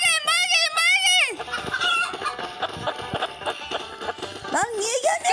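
Chickens cluck close by in a farmyard, starting with a few loud, drawn-out calls and then breaking into a busy run of short, overlapping clucks with another rising call at the end.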